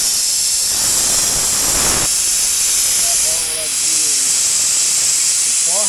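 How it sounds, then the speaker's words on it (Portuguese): Compressed air hissing steadily from a leak in a truck's tangled brake air lines, loud and continuous throughout, with a brief burst of broadband noise early on and faint whistling tones near the end. "Já tá vazando um arzinho ali na frente."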